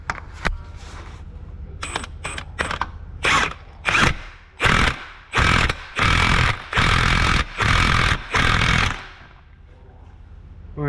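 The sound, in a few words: impact wrench with weighted impact socket tightening bolt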